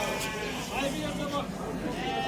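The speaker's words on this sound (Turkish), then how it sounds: "burada da koyunlar var" Sheep bleat repeatedly amid a noisy crowd at a livestock market in Akhisar, Manisa, Turkey, with people talking nearby over a constant background din.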